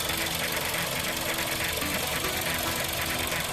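Volkswagen Jetta 1.4 TSI engine running, a dense steady mechanical clatter with a rapid ticking knock over a low drone, close up and continuous.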